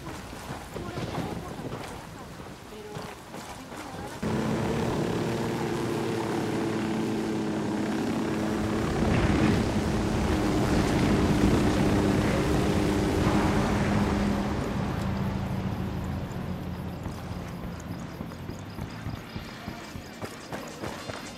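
A helicopter in Ghost Recon Wildlands, set in Bolivia, kicks in abruptly and holds a loud, steady droning engine and rotor hum for many seconds, swelling slightly in the middle before easing off under faint chatter.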